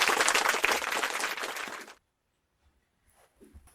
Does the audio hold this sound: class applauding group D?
yes